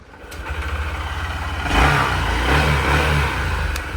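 Electric self-starter cranking on a Honda Livo BS6 motorcycle with starting problems and rat-chewed wiring, a loud close mechanical whir that steps up midway and holds steady, a faint click near the end.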